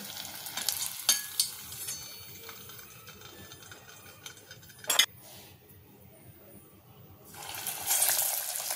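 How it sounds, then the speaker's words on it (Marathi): Chole tikki frying in hot oil in a pan, a steady sizzle with a few sharp clinks of utensils early on, fading quieter midway before the crackling swells loudly again near the end. "आता आपण ह्या टिक्की सोडूया।"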